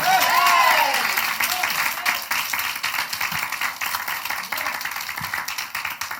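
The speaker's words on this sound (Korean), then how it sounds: "우리 하나님께 박수로 영광." A church congregation applauds during a Sunday morning worship service, full clapping at first that thins into looser, uneven claps and taps, with a voice briefly sounding near the start.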